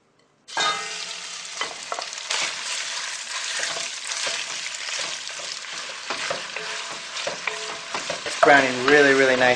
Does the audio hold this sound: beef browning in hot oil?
yes